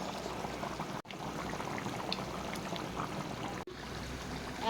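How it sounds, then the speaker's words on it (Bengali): Meat curry in broth bubbles on the stove in a steady, close simmering burble, with two brief cut-outs interrupting the continuous boiling. "দেখো টকবক করে ফুটছে।"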